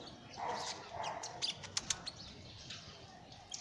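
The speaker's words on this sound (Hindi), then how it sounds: "ये आजकल चिड़ियाँ, सर्दियों का मौसम है तो पूरा दिन यहीं पे इसी लेमन पे बैठी रहती हैं" Small birds perched on a lemon tree in winter chirp in sharp, scattered bursts, fairly faint against a soft outdoor background with no talking.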